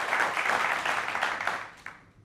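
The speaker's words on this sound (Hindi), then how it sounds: "इसके लिए वाकई जोरदार तालियां आपके लिए।" A crowd applauds loudly in a dense wash of clapping that tapers off over a couple of seconds.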